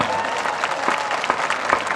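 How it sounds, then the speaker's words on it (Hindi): Audience at a Hindi comedy poetry gathering (hasya kavi sammelan) breaks into dense, sustained applause, a close, even wash of many hands clapping with a few sharper claps standing out. "ताली बजानी है तो एक बार ढंग से बजा लो"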